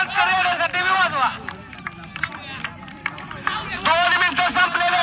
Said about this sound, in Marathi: टाळ्या वाजवा जरा लागा मालकांसाठी बी वाजवा